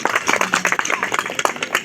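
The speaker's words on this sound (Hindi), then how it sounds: "एक बार आप लोग अपने सम्मान में जोरदार तालियां बजाकर अपना अभिनंदन" Audience applause at a village poetry gathering, a short burst of quick overlapping hand claps from a nearby crowd, lively and uneven throughout.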